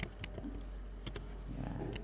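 Computer keyboard typing: a few sharp, quick key clicks in small bursts over a steady low hum, fairly faint and with no talking.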